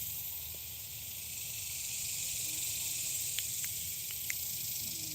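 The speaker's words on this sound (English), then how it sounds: "The cicadas really loud?" Cicadas buzz loudly outdoors, a constant high shrill drone over steady background hiss, with a few faint chirps and ticks scattered on top.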